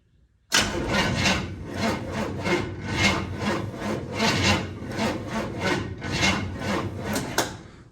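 Freshly built 1968 Chevrolet C10 pickup engine being cranked on its first start-up attempt, a loud rough rhythmic churning that pulses steadily for several seconds after an abrupt start, with no voices.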